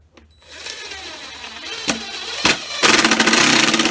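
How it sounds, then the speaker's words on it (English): A power drill drives screws into an old wooden beehive box, first with short whirring bursts and then a louder sustained spin at the end, close by. "So let's put a couple screws in here and secure it."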